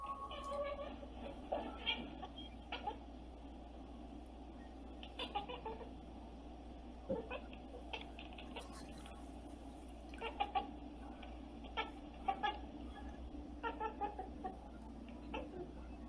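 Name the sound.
cat chattering vocalization while hunting, recording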